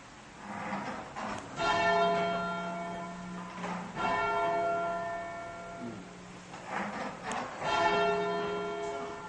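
English church bells ring out in French Canada in a steady peal, several bright, resonant strikes overlapping and swelling in turn with long ringing tails, no talking.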